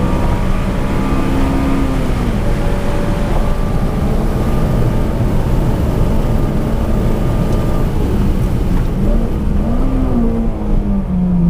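A Honda Civic Si engine pulling hard on a race track, a loud continuous drone with rising and falling pitch, buffeted by wind noise.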